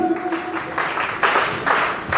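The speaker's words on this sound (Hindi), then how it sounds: "जबरदस्त तालियां होनी चाहिए।" An audience at a training event claps in several swelling bursts, with hands beating in dense waves that rise and fall over a couple of seconds and are heard alone without talk.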